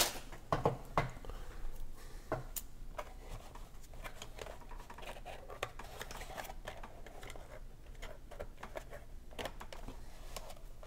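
Scissors snip and plastic packaging crinkles and rustles as a Transformers Legacy DK-2 Guard toy is cut free. Quiet, close handling noises come in irregular bursts, busier at the start, with no talk.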